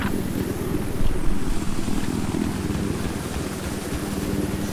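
A helicopter in the Battlefield 4 video game gives a steady, loud low rotor drone that holds throughout with no speech over it.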